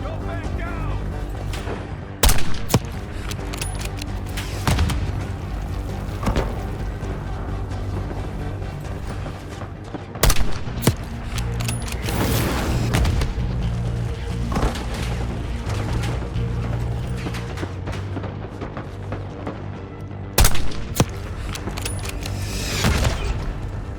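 Heavy mortar blasts from Call of Duty Black Ops 6 land about every eight to ten seconds, loud and close, over a constant rumble of battle noise and scattered gunfire.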